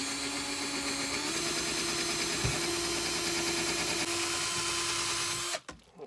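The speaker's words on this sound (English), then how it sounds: "I might have to use a bigger drill bit, but let me put this first one in" A power drill drives a screw into a wall inside a small 13 ft Scamp camper trailer, a steady loud whirring motor tone that shifts pitch partway through, then stops abruptly with a clunk near the end.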